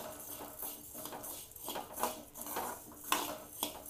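Sambar powder spices dry roast in a pan, with quiet scraping and clinking of a utensil stirring against metal in an irregular rhythm.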